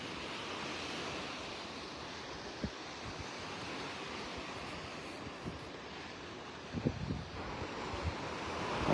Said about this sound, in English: I'm walking down the beach in Pelican Bay.